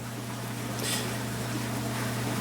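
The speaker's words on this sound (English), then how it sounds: "our sump pump running in the background" A sump pump runs steadily in the background, a constant low electrical hum with a faint broadband hiss and one brief brighter rustle partway through, with no talk.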